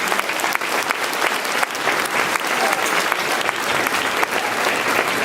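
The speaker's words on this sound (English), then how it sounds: "If we could applaud Mitch again." An audience at a school band concert applauds steadily and densely for several seconds, an even wash of clapping from many hands.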